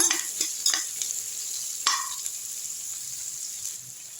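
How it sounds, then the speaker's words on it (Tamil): Ingredients for drumstick kurma sautéing in a pan, with a steady hiss of frying and a few crisp stirring scrapes early on, then a quieter continuous sizzle, close by and without voices. "பச்சை வாசனை போகிற அளவுக்கு நல்லா லைட்டாக வதக்கிக்குங்க"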